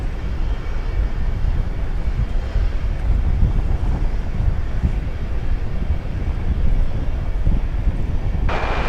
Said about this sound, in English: a new, as of this year, Boeing 767 freighter on its way to Louisville